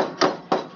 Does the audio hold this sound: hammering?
yes